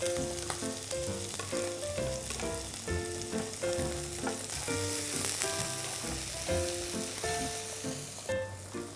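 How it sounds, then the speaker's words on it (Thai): Garlic and chili frying in a pan for a prawn-fat pasta sauce, a continuous hissing sizzle sitting under prominent melodic background music for the whole stretch. "ใส่กระเทียมหอมและพริกที่เราเตรียมไว้ลงไปครับ"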